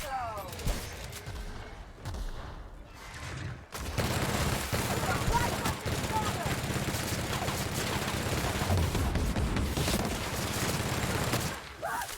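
Rapid, sustained gunfire from a big gun in the video game The Outer Worlds, a dense continuous barrage of loud shots lasting several seconds, with someone talking over parts of it.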